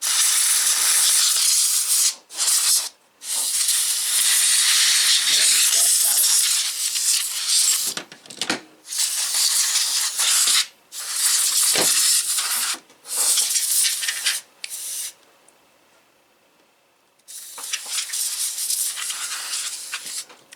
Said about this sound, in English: what I usually do is I use a little bit of this compressed air